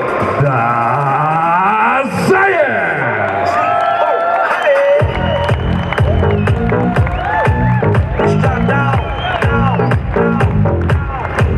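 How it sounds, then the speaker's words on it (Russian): A crowd at a WFCA 35 fighters' weigh-in in Astana cheers and whoops to welcome a fighter from the Akhmat club, loud and continuous, with a booming announcer's voice over the noise. "Встречайте бурными овациями и аплодисментами Гойти"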